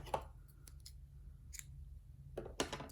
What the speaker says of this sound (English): I'm going to tighten the brown yarn and cut it